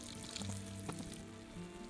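Onions cooking in oil and butter in a pan over medium heat, a quiet, steady sizzle with a low background hum throughout.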